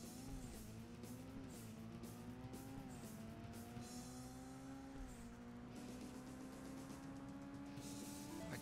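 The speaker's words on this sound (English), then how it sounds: "I can hear one of the other cars right behind me." Racing car engines in the video game Burnout 2: Point of Impact whine and rev continuously, with shifting pitch as vehicles jostle close together, a steady loud drone throughout.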